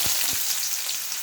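Small shallots with cinnamon, fennel and mustard seeds frying in hot oil as a tempering for kulambu, a dense continuous sizzle with a couple of low knocks at the start.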